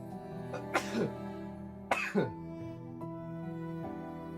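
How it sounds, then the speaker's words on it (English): Two sharp, forceful sneeze-like bursts from a person close to the microphone, a second apart, over a steady hum of electronic background sound. "I'm gonna sneeze."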